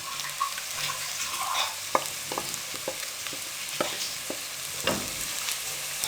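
Green chillies frying in a pan for a samosa filling crackle with a continuous sizzle, broken by sharp spatula clicks and scrapes as they are stirred.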